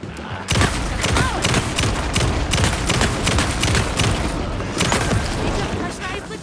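Sustained rapid gunfire against monsters in the survival horror game Alan Wake 2, Night Springs episode, dense and loud with overlapping shots and heavy booms throughout, briefly easing before another burst near the end.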